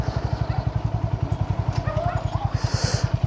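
A motorcycle keeps rolling while its rear brake is pressed fully but fails to stop it, the engine thumping in a steady, even pulse close by for the whole stretch.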